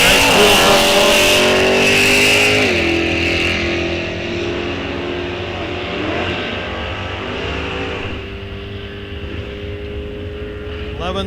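A 1967 Impala drag car idles and rolls through a test lap at a drag strip, its V8 engine rumbling loudly with a brief rev shift early on, then settling into a steady, throaty drone.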